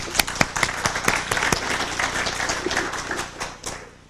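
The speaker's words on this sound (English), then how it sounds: "A little round of applause for John." An audience applauds a speaker at a talk: sharp individual claps ring out over a thinner ripple of clapping, tapering off toward the end.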